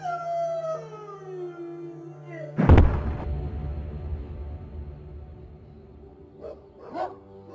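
Palace dogs howling and whining in long falling cries, then a loud thud followed by a low rumble and a couple of faint yelps, fairly close and with no talk.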